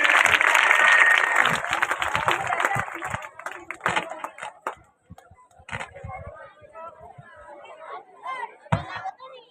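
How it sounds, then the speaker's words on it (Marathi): An audience at a group folk dance performance claps loudly in a dense burst that fades into scattered claps, with chatter and a voice speaking over it. "जोरदार टाळ्या वाजवून या ठिकाणी"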